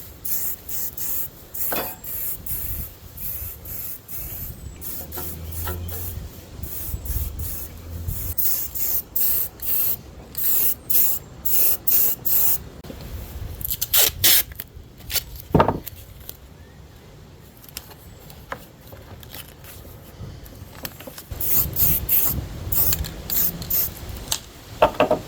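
Aerosol can spraying epoxy enamel green paint in long hissing bursts separated by short pauses and the rattle of shaking, close and loud, with no voices.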